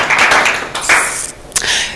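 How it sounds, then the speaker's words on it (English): Brief round of applause for Faten, a speaker at a women in technology panel event, with scattered clapping rising and fading in short bursts, fairly close and moderately loud, no talk over it. "round of applause for Faten"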